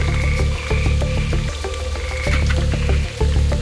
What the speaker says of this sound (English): one loud and continuous call started, which felt like a colony of frogs desperately calling for each other